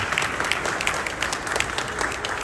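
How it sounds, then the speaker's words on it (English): Sustained audience applause at the opening ceremony of a coin collectors' world fair in Chicago, honouring past presidents; dense, steady clapping from a large crowd continues throughout, with no talk over it. "Let's give them past presidents a round of applause."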